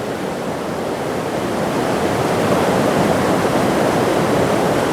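Waterfall at High Falls, Alabama, water pounding against a rock wall; a loud, continuous broadband roar that swells slightly midway and holds steady, with no voices.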